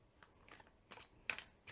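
Soft, papery riffling of small tarot cards being shuffled overhand in short, uneven bursts, close and quiet, with brief gaps between each pass.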